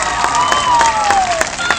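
Brief burst of applause and cheering from an elementary school audience at a Red Ribbon assembly, steady clapping with children's voices and a sustained tone over it.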